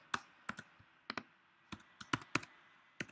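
Computer keyboard keys tapped in short, irregular bursts while entering code for a swarm AI program, the crisp clicks close and clear with quiet gaps between them.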